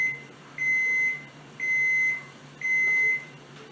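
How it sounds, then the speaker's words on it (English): A kitchen oven signaling it has finished preheating with three steady, evenly spaced electronic beeps, each about half a second long, clear and close against faint room noise. "there's the oven ready."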